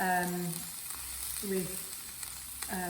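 Thin tuna steaks, brushed with oil, searing in a dry hot pan, giving a steady close sizzle with a voice speaking over it in places.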